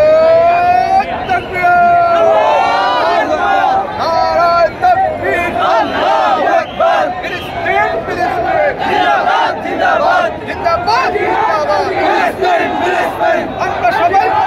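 A large rally crowd at Raju in Dhaka, gathered for a March for Gaza, chants slogans in loud, rhythmic unison, with voices overlapping continuously and close to the listener throughout.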